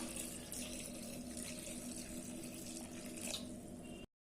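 Steady running water pours into a pressure cooker of lentils with turmeric for sambar, continuously for about four seconds, fairly close, then stops abruptly.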